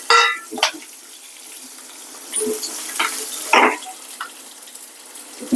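Onions sizzle in a hot pan with lentils while cooking a palm fruit curry, a faint crackle broken by a few clinks and stirring scrapes of a spoon.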